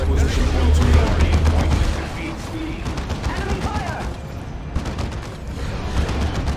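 Weapons fire in a Dawn of War 2 Elite Mod battle between Eldar and Space Marines, Fire Dragons blasting a Razorback: dense, continuous bursts of gunfire and booms with a commentator's voice running over the top.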